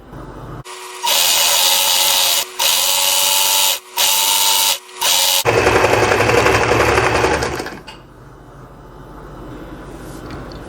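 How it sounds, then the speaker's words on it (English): A sewing machine stitches a straight line along a fabric-covered headband, with loud rapid whirring runs broken by several brief pauses, then a final longer run that slows and stops, leaving light handling noise. "So I'll just take it over to my machine now and sew here, just along this line, just a straight line."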